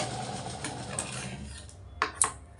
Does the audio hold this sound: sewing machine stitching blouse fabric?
yes